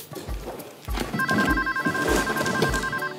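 A telephone rings with a repeating electronic trill that starts partway through, over a room with soft background noise and faint footsteps.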